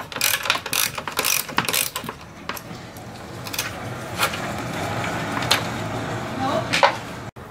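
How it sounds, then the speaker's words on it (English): A hand ratchet works a fan shroud bolt on a 1996 Mustang GT, giving quick bursts of rapid clicking at the start and then scattered shorter runs of clicks, close and clear. "Remove the driver's side bolt first."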